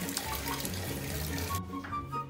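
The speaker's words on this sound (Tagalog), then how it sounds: "bubuksan ko yung mga tubig sa CR kasi kailangan daw ubusin yung tubig" Bathroom taps running to empty a house's water tank, a continuous splashing flow into a sink that cuts off abruptly partway through, then trickles and drips faintly before a brief resumption.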